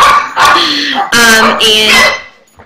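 A young puppy gives several loud, high-pitched yapping barks close by, in quick bursts that trail off at the end.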